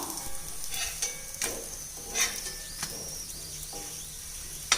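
Virudhunagar-style parotta half-cooking over medium flame on a dosa tawa, a quiet continuous sizzle with several sharp flipping and pressing clacks at irregular intervals, no voices.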